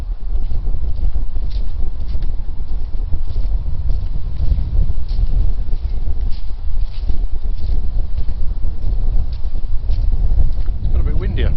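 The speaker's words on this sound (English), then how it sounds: "It's got a bit windy up here," Strong wind buffets the microphone on an exposed hilltop, a constant low rumbling roar with gusty swells that lasts throughout, with no other clear sounds rising above it.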